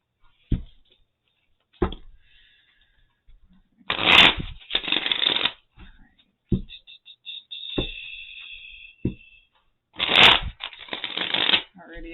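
Tarot cards are shuffled in bursts, with sharp riffling clatters and separate taps and flicks of the deck, close by and clear between quiet gaps.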